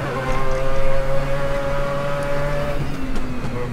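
A Mazda 787B racing engine revs in Assetto Corsa at Laguna Seca, a loud close buzzing drone with steady harmonic tones and quick throttle blips shifting the pitch.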